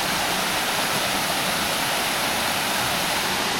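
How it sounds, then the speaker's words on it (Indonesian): Steady, dense roar of the Riam Parong waterfall in Singkawang, continuous broadband rushing water with no pauses, close and fairly loud throughout. "Ada air terjun."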